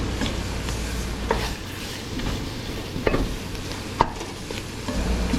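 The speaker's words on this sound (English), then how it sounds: "We're just gonna stir them onions in there good. We're gonna let them onions cook down for a little while." Onions cooking down in a pot, a steady soft sizzle under occasional scrapes and clinks of a spoon stirring them, close and moderately loud, with no talk.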